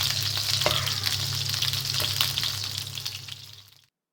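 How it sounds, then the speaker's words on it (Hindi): Cheese chicken drumsticks fry on medium heat in a pan, a close, steady sizzle with a few stirring scrapes, fading out abruptly near the end. "मीडियम आंच पे इसको फ्राई करेंगे"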